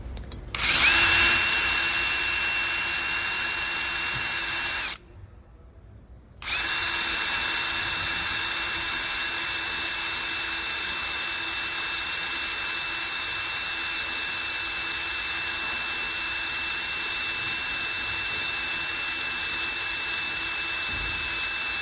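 Drill boring a pilot hole in a differential cover bolt, a loud steady high whine that stops briefly around five seconds, then resumes and runs on evenly.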